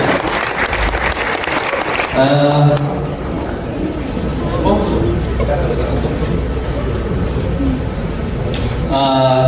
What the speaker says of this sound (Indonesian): tepuk tangan dulu nih buat Mas Anies Baswedan